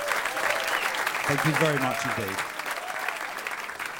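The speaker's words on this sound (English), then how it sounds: "let's give him a round of applause" Steady, dense applause from a concert audience honoring a musician on what would have been his 95th birthday, a live music show; someone speaks briefly over the clapping midway as it carries on.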